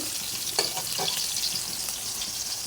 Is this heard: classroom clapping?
no